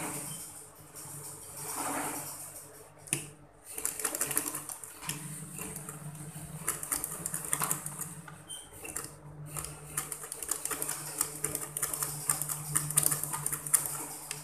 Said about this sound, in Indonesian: Kemudian kita jahit dari bagian kain kerasnya.